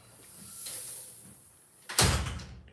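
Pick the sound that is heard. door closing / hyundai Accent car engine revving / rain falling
door closing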